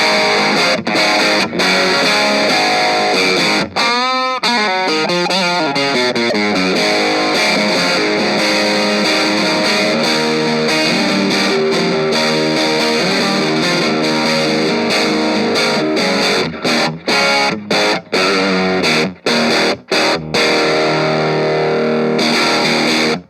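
Distorted electric guitar through an Orange Crush 20RT amp on its dirty channel with reverb, loud and continuous, with sustained chords and busy riffs, a swelling bend near the start and choppy stops toward the end.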